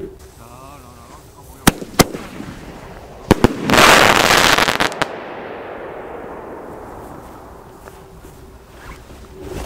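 Fireworks and firecrackers set off outdoors: a few sharp separate bangs, then a dense loud crackling burst lasting about two seconds, followed by a fading rumbling tail and a quieter, lightly noisy background.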